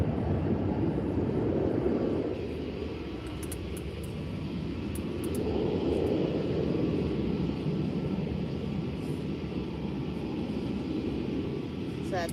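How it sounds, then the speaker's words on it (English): A jet airliner roars through its takeoff at Faro Airport in the early morning, a sustained distant engine rumble that swells twice before settling into a steady drone outdoors. "That was a late takeoff."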